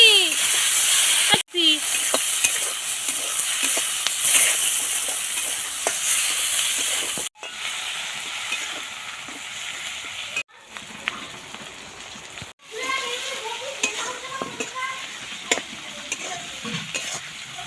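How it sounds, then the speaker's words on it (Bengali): Cumin seeds temper in hot oil on a new stove, a loud steady sizzle that runs throughout with brief gaps, stirring scrapes and talk heard over the frying. "জিরে ফোড়ন দিলাম।"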